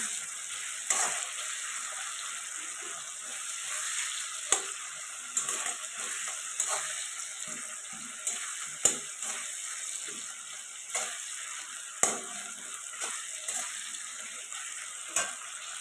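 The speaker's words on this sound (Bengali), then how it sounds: "আদা রসুন বাটাটা দিয়ে ভালো করে কষিয়ে নিতে হবে" Ginger-garlic paste fries with softened tomato in a pan for a Bengali egg curry, giving a steady sizzle broken by regular scraping stirs of a spatula, close and moderately loud, with no talking.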